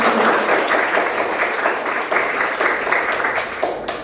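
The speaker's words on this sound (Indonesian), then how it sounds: "Oke, tepuk tangan semuanya." Applause in a classroom setting: a steady wash of many hands clapping together at moderate loudness, sustained for several seconds with no voices over it.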